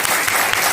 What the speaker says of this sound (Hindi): चलो बहुत अच्छा, ताली होनी चाहिए।